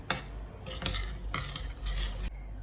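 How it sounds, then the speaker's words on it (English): Banana cake batter being stirred in a bowl, made without white flour or egg: a close scraping and stirring with spoon clinks against the sides, in several strokes with brief pauses, no talking. "Again mixy."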